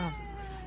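A person's voice imitates a cat's meow: a single short, close, tonal meow.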